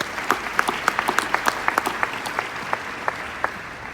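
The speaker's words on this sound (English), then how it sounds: "Please give them a round of applause." A press conference audience applauds at the Michigan basketball introduction of Juwan Howard, a sparse, moderately distant patter of individual claps with distinct sharp hand strikes spread across the room.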